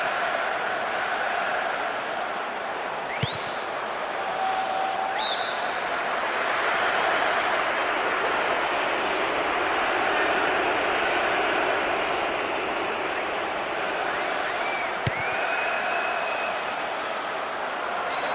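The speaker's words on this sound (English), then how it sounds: "There's a great sense of expectation inside this vast stadium. The crowd close to the pitch makes for a good atmosphere." Crowd noise from a vast stadium in the football video game PES 2008 on PS2, a broad, steady roar with rising swells and a few brief whistle-like tones.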